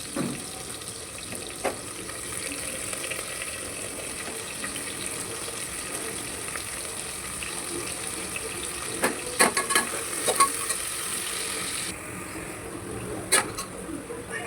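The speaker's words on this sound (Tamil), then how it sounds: "வெங்காயம் போட்டு நல்லா வதக்கிக்கலாம்" Onions sauté in hot oil for chicken biryani, a steady soft sizzling hiss that persists throughout, with a few light clicks and clinks of stirring near the end.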